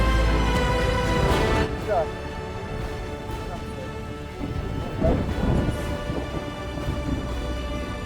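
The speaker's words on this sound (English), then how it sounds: "Storm is about to break." A thunderstorm breaking with steady rain and rumbling thunder rolling in bursts, heard loud and close alongside wind noise, with someone talking over it.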